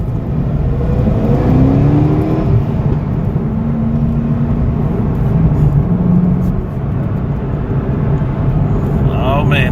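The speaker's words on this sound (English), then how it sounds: "that exhaust note is just too heavenly" A Corvette C6 ZR1 accelerates on a highway, its exhaust giving a deep, steady, loud roar with rising engine tones heard from inside the car, and someone talks over it.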